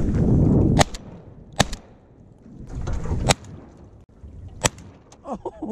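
Shotgun blasts ring out at ducks during a duck hunt. There are four sharp, loud reports spaced a second or more apart, with outdoor rumble and some brief voices between them.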